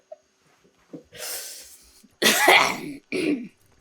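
A few close, harsh coughs break out in separate bursts, with quiet breaths between them and no talking.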